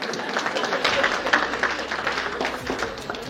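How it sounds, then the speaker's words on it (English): Audience applause at a business presentation in Bournemouth, a steady wash of many hands clapping with some crowd murmur, fairly close and sustained throughout. "All clap hands for us."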